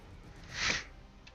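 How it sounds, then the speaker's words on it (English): A single short sniffle, a quick nasal inhale rising and fading near the microphone over a faint background hum. "I shouldn't sniffle while I'm recording."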